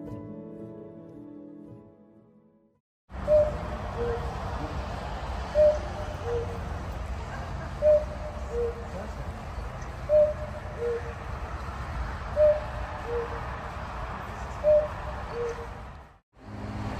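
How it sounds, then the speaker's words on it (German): A giant house-sized Black Forest cuckoo clock with dancing figures calls about six times. Each call is a two-note cuckoo repeating every couple of seconds over a steady outdoor ambient rumble, with no talk. "Das Highlight ist diese hausgroße Kuckucksuhr mit Figuren,"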